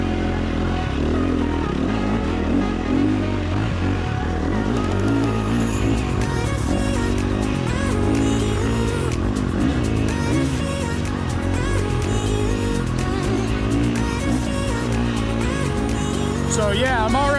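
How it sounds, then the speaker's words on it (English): An engine revving hard after a downshift during testing of a Tokyo Mods Vortex ECU, a loud, sustained drone rising and falling in pitch, close by with steady road noise. "Let's shift down and let it get in the rev range a little bit."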